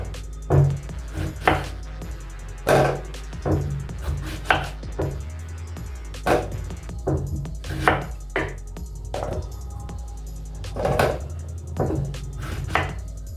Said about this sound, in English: I'm going to be cutting my garden eggs into two.